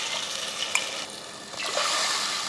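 Tamarind water poured into a cooking pot for rasam with cooked rice, a steady broadband wash of liquid pouring and stirring, close and continuous, slightly louder toward the end, with no talk.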